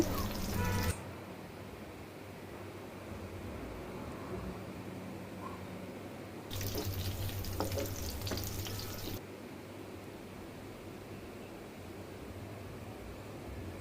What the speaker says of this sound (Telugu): కాజుని ఇప్పుడు సిమ్లో పెట్టుకుని వేపుకోవాలండి